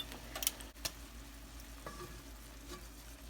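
Chicken with Dijon mustard stirred in a pan gives a faint, soft sizzle with a few light utensil clicks and scrapes early on, quiet and close.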